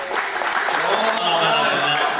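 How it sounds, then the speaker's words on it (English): Studio audience applauding at a comedy panel game show, a steady dense wash of clapping that fills the moment without a break. "A round of applause, please."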